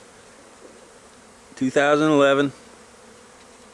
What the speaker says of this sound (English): Bees are flying pretty strong today